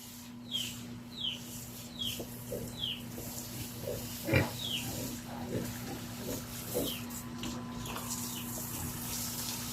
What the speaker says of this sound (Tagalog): Ito po yung mahuhuling mga anak natin na native pigs.